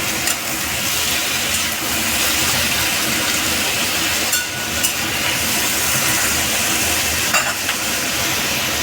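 Chopped garlic fries with sliced bitter gourd in hot oil, giving a loud, continuous sizzle and hiss. A few stirring scrapes break through, and no one speaks.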